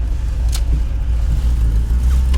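A car with a flat tire drives and pulls away in first gear, its engine note a loud, steady low rumble close by that builds gently as it accelerates from low revs.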